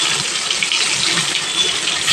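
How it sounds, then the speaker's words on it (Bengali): A double-yolk egg fries in hot mustard oil, giving a loud, steady, close hiss of spitting oil that runs unbroken throughout. "তেল গরম হয়ে গেছে, ডিমটা এবার আস্তে আস্তে"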